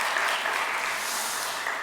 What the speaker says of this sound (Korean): 우리 환영과 축복의 박수 하겠습니다